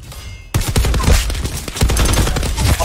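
Hades light machine gun in Call of Duty Black Ops 4 opens up in a loud, sustained automatic burst of rapid, closely packed shots that starts abruptly and keeps going to the end.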